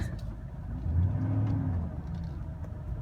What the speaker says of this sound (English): Now we're gonna go driving that and reversing that